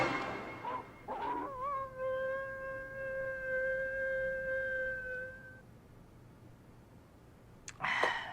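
In a film scene, a dog lets out a long, wavering whimpering howl that holds for several seconds. Shorter yelps come before it and a brief noisy burst follows.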